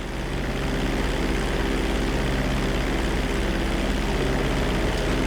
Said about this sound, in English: Hold the throttle all the way down to pick up speed, and pull back on the stick to take off